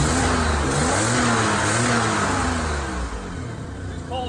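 A cold car engine runs with vacuum leaks, rumbling and revving at a mid pitch with a wavering, uneven idle, close and loud without any talking.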